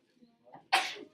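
A single sharp sneeze bursts out in an algebra classroom after a faint quiet breath and murmur, loud and close, tailing off quickly.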